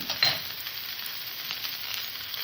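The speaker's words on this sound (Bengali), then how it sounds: "মশলাটাকে একটু কষে নেব" Spices with tomato, turmeric and salt fry alongside browned potato and cauliflower pieces in a pan for a fish curry, a steady hissing sizzle with a brief louder stir near the start, no talking.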